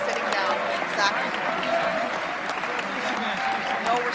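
Audience applause in the chamber at a State of the Union address, a dense, sustained wash of clapping filling the whole stretch at an even level.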